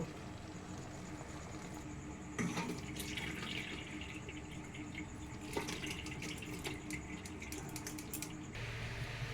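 Cooking water poured off boiled potato and pointed gourd peels into a pot runs and splashes steadily for several seconds, close and moderately loud, with no voices.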